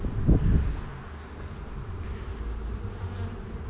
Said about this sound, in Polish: można zobaczyć jak se pszczoły bzyczą normalnie wokół uli